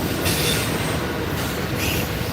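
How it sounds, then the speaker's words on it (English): Two freight trains roll past Coffey's Cliff, one of them hauling CP Heritage 7015, giving a steady, loud wash of rumbling wheels and railcar noise with faint squeals throughout, and no voices. "As y'all watch these two trains pass"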